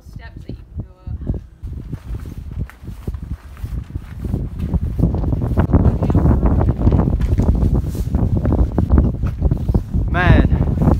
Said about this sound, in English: Man, can you hear that wind?